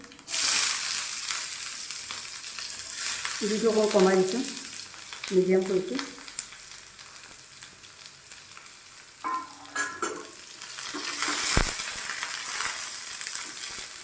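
Sliced onion fries with panch phoron and two dried red chillies in a little oil over medium heat, a close, steady sizzle with scattered stirring clinks while someone talks over it in bursts.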